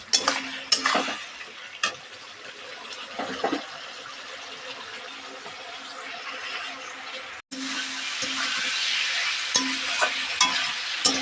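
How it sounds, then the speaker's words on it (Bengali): A vegetable curry is sautéed and stirred over full heat on a gas stove, giving a steady sizzle broken by repeated scraping and clinking strokes of a utensil against the pan. "এখন ফুল হিট দিয়ে দেবো, দিয়ে কষিয়ে নেব তাড়াতাড়ি ঝটাফট করে"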